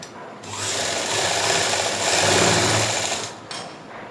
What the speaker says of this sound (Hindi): अब उसके बाद यहाँ से हमने इसके ऊपर सिलाई लगानी है